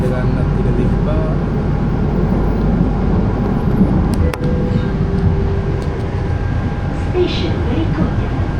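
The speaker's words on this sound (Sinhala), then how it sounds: "දැන් ඉතින් කමියුටර් එක ආවා" Steady rumble of a commuter train carriage heading to Batu Caves, a constant loud low drone with rail rattle throughout and one brief clunk midway.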